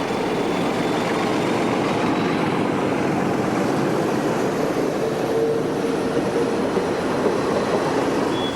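A loco-hauled passenger train runs on the Guarda line in Portugal, a steady loud rumble of wheels and carriages rolling close by throughout, with a faint squeal partway through and no voices.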